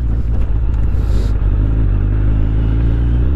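A Suzuki Hayabusa motorcycle engine revving loudly up close, a deep heavy rumble that surges and holds steady with no talking.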